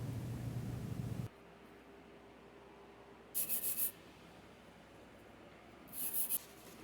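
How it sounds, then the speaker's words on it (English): A wire brush scrubs dried glue off a metal clamp in two short bursts of bright, raspy scraping, separated by quiet pauses, close and crisp. "We use a wire brush to remove any excess remnants of the glue from the clamp."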